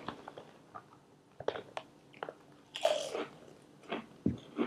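Lorenz Crunchips Western Style potato chips, eaten several folded together, crunch loudly and close up in a string of sharp bites and chewing crackles, with quiet pauses between them and no talking.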